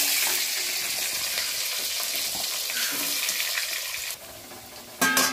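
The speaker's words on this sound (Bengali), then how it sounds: "আলুটা ভেজে নিচ্ছি।" Potato pieces fry in a pan of oil for a fish curry, giving a steady, close, loud sizzle that dips briefly and then flares up again at the end, with no talking.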